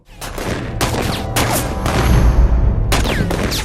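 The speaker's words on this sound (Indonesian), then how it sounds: "The Expendables menemukan sebuah desa yang penduduknya tiba-tiba menembaki The Expendables" Gunfire in a Jason Statham action movie scene where villagers suddenly open fire: loud, dense bursts of shots with booming impacts, repeating in clusters across the whole moment with no talk.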